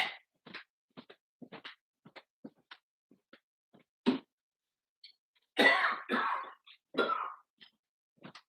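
Someone coughs repeatedly in short, close bursts, with a few heavier hacking coughs near the end and quiet pauses between them.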